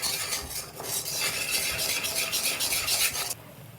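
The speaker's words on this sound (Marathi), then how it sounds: "आता हे आपल्याला आहे ना सगळं मिक्स करून घ्यायचं बरं का." A whisk beats rice flour batter in a pan on the stove, making a fast, continuous scraping and swishing that stays close and steady before stopping abruptly.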